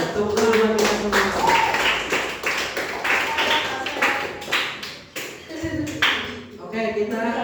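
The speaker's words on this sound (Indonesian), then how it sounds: "Tepuk tangan buat kita semua." A group, likely a classroom of students, claps in a brisk burst of applause, with voices talking and cheering over the clapping.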